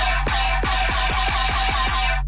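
A distorted, effects-laden sound is passed through a frequency shifter acting on its top end, loud and sustained, with a bright upper band over a rhythmic series of pulsing hits.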